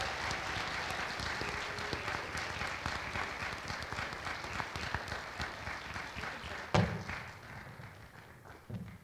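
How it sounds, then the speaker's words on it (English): A crowd at a university robing ceremony claps steadily after a musical performance, a dense and sustained wash of applause with one loud thump partway through. "Let's give him another round of applause."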